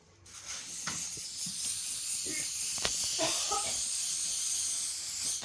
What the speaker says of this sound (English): I'm blowing in the main line, and I can feel it's leaking right underneath the clamp here